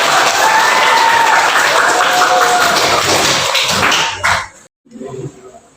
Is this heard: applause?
yes